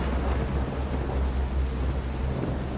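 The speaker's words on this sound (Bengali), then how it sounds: "আর আজকেই এমন বৃষ্টি শুরু হলো।" A rainstorm with thunder, a dense continuous hiss of heavy rain over a deep rumbling low roar that swells and sustains, loud and unbroken.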